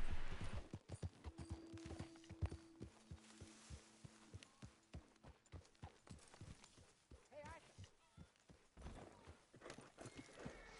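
Horse hooves clip-clop in a steady, rapid rhythm in the video game Red Dead Redemption 2, with a few sustained tones over them, fairly quiet and continuing for several seconds.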